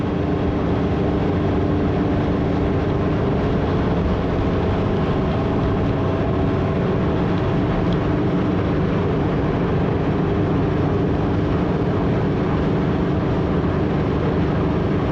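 A 1973 Cobalt boat with a Mercruiser 165hp engine running steadily near 2,800 RPM at about 28 mph, a loud continuous droning hum mixed with water and wind rush throughout.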